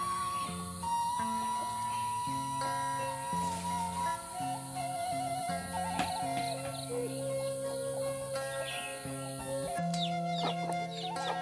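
Chickens at a rural house by a forest cluck and call repeatedly, several birds close by, with a rooster crowing near the end and faint household sounds behind.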